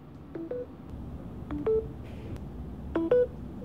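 A Samsung Galaxy phone on One UI 2.5 plays system sound previews. They come as three short pairs of clean electronic tones, clear and close, with quiet pauses between them.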